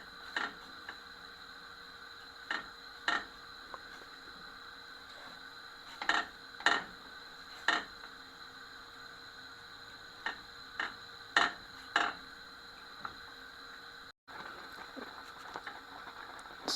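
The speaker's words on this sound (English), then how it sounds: "I'm going to go ahead and stir" A spoon stirs oat porridge in a pot, heard as sparse, faint clicks and knocks against the pot's side, spaced irregularly over a quiet background with no voices.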